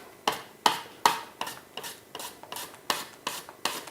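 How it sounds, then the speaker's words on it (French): Carrots being sliced on a kitchen mandoline, a sharp rasping stroke repeated about ten times at a steady, brisk rhythm, close and fairly quiet with no talking. "pour découper les légumes, j'ai la possibilité d'utiliser une mandoline"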